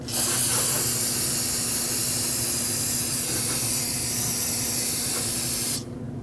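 Aerosol cleaner sprayed onto a brake line to wash off brake fluid on a 2009-2015 Honda Pilot, a loud continuous hiss held steadily for several seconds before cutting off abruptly.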